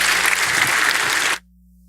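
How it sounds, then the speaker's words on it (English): A warm round of applause from a church audience rolls along evenly for just over a second and then cuts off abruptly, leaving only a low hum. "Won't you give him a warm round of applause?"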